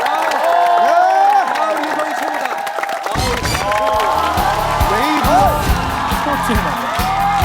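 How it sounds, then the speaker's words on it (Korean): A studio audience at a Korean TV talent show cheers and whoops with scattered applause, loud and close, while voices shout and call out over the crowd noise. "여러분, 다시 한번 두 분에게 뜨거운 박수 부탁드립니다"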